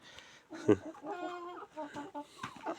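Hens cluck in a backyard henhouse with soft, scattered calls at close range, while a person talks over them.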